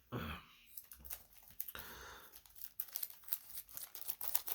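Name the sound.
plastic comic poly bag being opened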